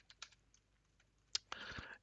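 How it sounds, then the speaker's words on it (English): A computer keyboard is typed on with a few scattered, faint keystrokes and then a quicker cluster of clicks, close and quiet, with no talking. "So we're going to type in git clone"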